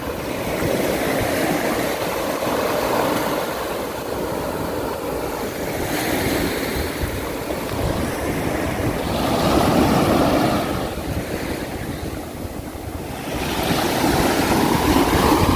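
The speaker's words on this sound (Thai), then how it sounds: "แต่ตรงนี้คลื่นจะแรงมากเลยทุกคน" Strong sea waves breaking on Laem Son beach in Bang Saphan, Prachuap Khiri Khan, Thailand, a continuous loud roar of surf that swells and recedes in slow surges, mixed with wind buffeting the microphone.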